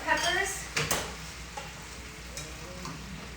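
Peppers frying in a pan for Roman-style chicken, a steady low sizzle with a few sharp clatters of stirring near the start, while a person talks over it.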